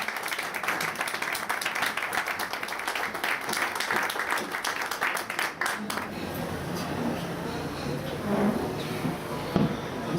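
Audience at an overseas Pakistani convention in Greece applauding to welcome the Pakistan embassy secretary, a dense round of clapping that fades after about six seconds into quieter room noise.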